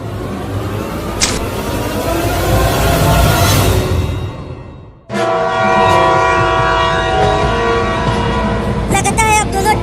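Two cartoon trains race toward a collision with loud, blaring horns over a heavy rumbling roar. The noise cuts out briefly midway, then returns at full strength with more horn blasts.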